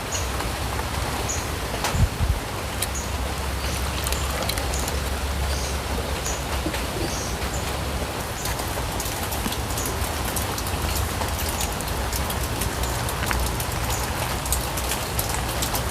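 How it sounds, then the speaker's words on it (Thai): Rain falls steadily in a caladium garden, a dense, even patter on leaves and surfaces throughout, with faint bird calls now and then. "ฝนก็เริ่มโปรยปลายลงมาแล้วนะ"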